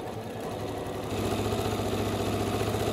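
A sewing machine stitches through thick foam layers for a tote bag in a fast, steady mechanical whir that grows louder and heavier about halfway through.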